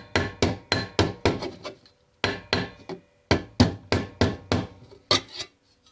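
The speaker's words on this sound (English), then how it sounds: "once you get the edge flared a little bit, you can then go back through and you can hammer it down now" A hammer strikes a flared edge of a steel armguard, or vambrace, to beat it down: quick bursts of sharp ringing metallic blows in rapid runs of three to six, separated by short pauses, close and loud.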